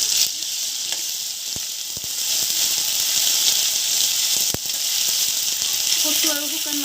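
Onion and ginger-garlic paste fry in a pan, a steady close hiss of sizzling with a few sharp clicks of a utensil and a brief bubbling burst near the end; no talking.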